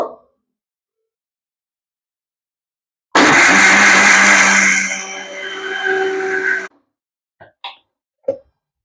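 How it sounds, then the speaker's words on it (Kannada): After quiet, a mixer grinder whirs loudly for a few seconds grinding ration rice with a little water into idli batter, its motor pitch shifting, then stops, followed by a few light knocks. "ಈಗ ಇದನ್ನ ರುಬ್ಕೋಬೇಕು"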